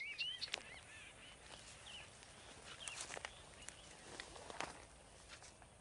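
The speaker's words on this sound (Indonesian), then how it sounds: "Ada kutilang juga ini ya." A sooty-headed bulbul calls outdoors near Mount Merapi at Kali Adem, Cangkringan, Sleman, giving a few faint, short chirping notes scattered over quiet background ambience, with no one talking.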